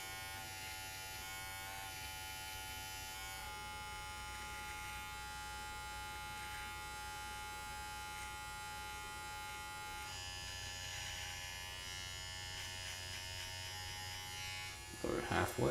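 Electric hair clippers buzz steadily and close throughout a self-administered buzz cut on a man's head, a continuous harmonic drone with slight shifts in tone as the blade moves through hair, and a brief clatter near the end.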